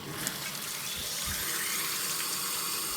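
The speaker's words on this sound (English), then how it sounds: "And I put the water on." Water gushes steadily from an outdoor yard tap in a broad, constant hiss, close and unbroken, with no voices over it.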